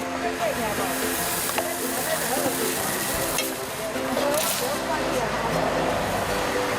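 Crepe batter frying on a hot griddle gives a steady, close sizzling hiss with faint scraping, while people talk over it.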